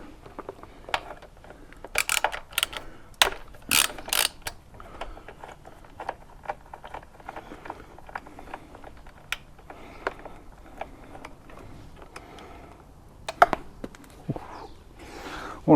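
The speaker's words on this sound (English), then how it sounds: "we've got 2 more bolts in here that we need to take out." Ratchet wrench working bolts out of an 18-year-old Honda Fireblade motorcycle during a first service, giving bursts of sharp clicking with louder clacks and brief pauses, close by with no talk.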